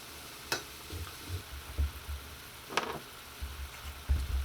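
Rabbit pieces browning in a hot pan give off a low, steady sizzle, broken by a few sharp spatters and clinks near the start and again toward the middle, with no one speaking.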